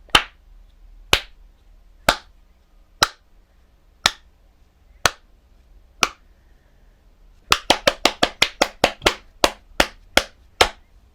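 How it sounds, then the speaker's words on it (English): Sharp single hand claps meant to trigger the LED on a modified 1978 Kenner R2D2 toy ring out in a quiet room: seven evenly spaced claps about a second apart, then a quicker run of roughly a dozen. "So if I clap, the LED should come on."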